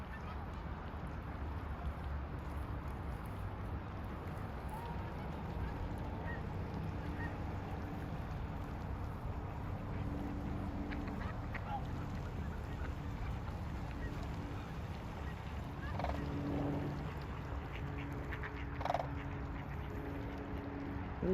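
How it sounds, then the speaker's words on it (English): Canada geese and mallard ducks calling at a migratory bird sanctuary in Fairbanks, Alaska, with scattered distant honks and quacks over a steady outdoor wind and ambient rumble. "Canadian geese. Mallard ducks."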